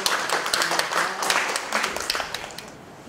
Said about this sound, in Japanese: 盛大な拍手をお願いします。